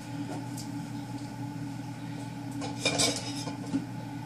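Freshly washed dishes and cups being handled in a kitchen: a brief, faint clink and clatter of crockery over a steady low hum.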